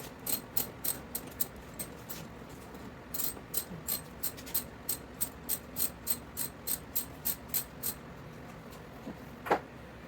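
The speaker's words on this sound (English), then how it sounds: "We're loosening the bolts." Rapid ratchet clicking from a 10mm socket loosening intake bolts on a third-generation Toyota Tacoma during a TRD air intake install, short evenly spaced bursts of clicks, close and fairly quiet.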